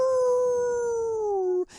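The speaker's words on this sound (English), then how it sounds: "you hear the wolves howling" A single long, clear howl like a wolf's, sliding slowly downward in pitch for over a second before breaking off abruptly, loud and close.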